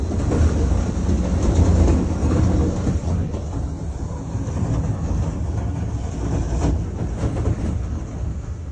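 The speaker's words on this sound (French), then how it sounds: "Un wagon stationné est sorti des rails." A heavy parked railway wagon rolls and derails off the rails in Moore, Oklahoma, with a loud continuous rumbling and grinding of steel, punctuated by clanks and rattles, heard outdoors from close by.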